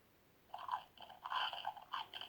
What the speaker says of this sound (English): This is the caterpillar munching the leaf.